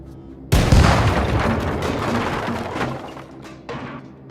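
A grenade blast in the shooter game Wolfenstein II: The New Colossus lands as one sudden loud boom, then a rumbling, debris-filled tail that lingers and slowly fades, with a smaller crack near the end.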